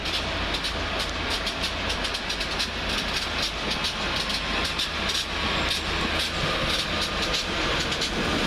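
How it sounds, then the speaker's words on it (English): Northern Rail Pacer 144012, running from Lincoln Central to Adwick, passes at Doncaster with a loud, continuous rumble and a steady run of clickety-clack wheel beats close by. "It will be the Pacer Straighter 144012."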